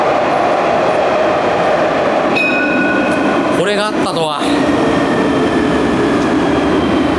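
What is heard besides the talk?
tram to the airport in Nice, France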